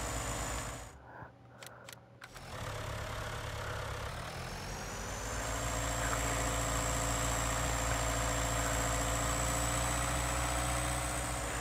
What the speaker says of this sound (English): we got that mower going